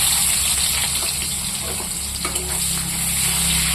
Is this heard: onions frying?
yes